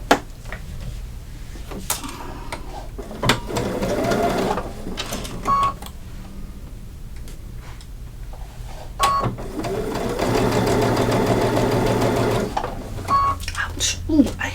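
Domestic sewing machine stitching a Santa gift bag with pins in the fabric, running in bursts of rapid mechanical whirring, with short pauses and clunks between runs, close and fairly loud.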